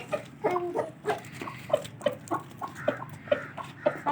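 A white heera aseel rooster clucks close by in a steady series of short, repeated calls, with no one speaking.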